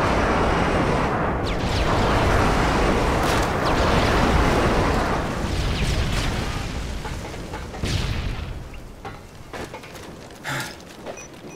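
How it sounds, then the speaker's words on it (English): Heavy, rumbling airstrike explosions roll through a Modern Warfare 3 match, a long thunderous wash that swells and then thins into scattered bursts and sharp cracks toward the end. "Friendly airstrike on the way."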